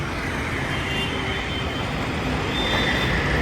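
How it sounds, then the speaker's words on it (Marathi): Constant rushing drone of cars, buses and trucks speeding along a highway, a dense unbroken wash of road noise swelling slightly near the end. "गाड्या सटासट चालत."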